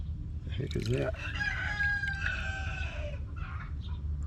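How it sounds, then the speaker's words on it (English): A rooster crows once, a long drawn-out call, fairly clear against a low background rumble, with a few softer clucks near the end. "you had rooster in the background"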